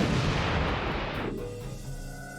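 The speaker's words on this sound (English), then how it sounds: "for the Stryker vehicle, that's the M68 105mm cannon" An M68 105mm tank cannon firing, a single huge boom that rolls out into a long, decaying rumble and echo, loud and alone.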